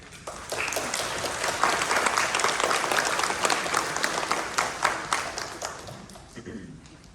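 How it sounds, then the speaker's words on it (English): An audience at a Fresno Hanamatsuri family temple service applauds to welcome a guest speaker, a full, even round of clapping that swells and then tapers off over several seconds. "please welcome today's special guest speaker for Marvin Harada with all applause"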